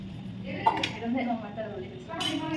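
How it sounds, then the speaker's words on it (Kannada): Dishes clink and clatter against running water, with people talking over the washing-up throughout. "ಪಾತ್ರೆ ತೊಳಿತಾ ಇರೋದು"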